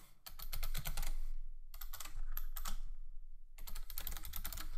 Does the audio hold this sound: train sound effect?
no